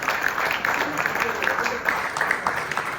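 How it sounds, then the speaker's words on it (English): A crowd at a Columbus Day celebration breakfast applauds an honored guest, producing a sustained wash of clapping hands throughout, moderately loud, with some voices mixed in beneath the applause. "Yeah, that deserves a round of applause."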